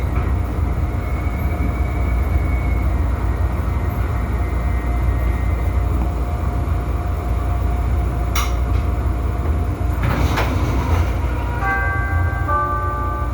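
A steady low rumble of a Chicago CTA Brown Line subway train in motion, with a few brief high metallic squeals and tones near the end; no talking.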